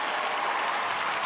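A studio audience at a singing competition show cheers and applauds for the Starfish, a dense, steady wash of clapping and crowd noise throughout.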